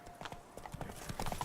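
Hooves of Roach, Geralt's horse in The Witcher game, clip-clop in a steady walking rhythm at moderate distance, mixed with light ambient game sounds.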